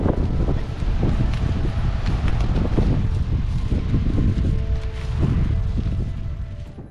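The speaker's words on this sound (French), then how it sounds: "On a un vent pas possible." Strong, steady wind roars and buffets the microphone throughout, with gusty surges and faint rustling underneath, at about 1,000 metres altitude.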